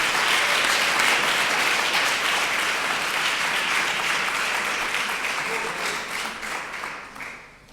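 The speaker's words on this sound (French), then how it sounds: "on peut les applaudir" An audience at an academic opening ceremony applauding, a full, sustained round of clapping from a large crowd that slowly tapers off toward the end.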